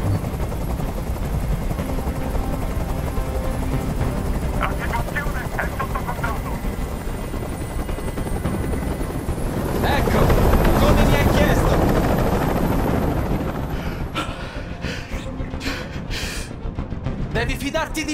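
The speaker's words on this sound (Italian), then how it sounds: "Digli di mandare via quell'elicottero!" A helicopter hovers nearby in the video game Detroit: Become Human, a loud, steady rotor drone that fills the whole stretch and swells slightly midway, with voices faintly underneath.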